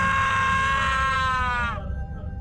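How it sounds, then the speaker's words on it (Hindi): A man's loud, drawn-out scream rings out as a harsh tonal cry that bends downward and cuts off, leaving a low rumble behind. "तभी उसी बीच मुझे किसी आदमी की एक तेज चीख सुनाई दी।"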